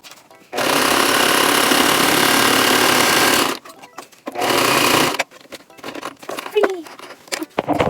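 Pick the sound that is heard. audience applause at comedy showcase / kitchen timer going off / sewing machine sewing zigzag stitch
sewing machine sewing zigzag stitch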